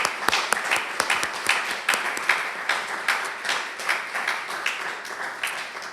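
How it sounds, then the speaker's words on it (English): An academic colloquium audience applauds two scholars on a religion and critical theory panel: a room of clapping with distinct sharp hand claps over the wash, steady and moderately loud before it begins to thin. "If we could begin by giving these two scholars a round of applause."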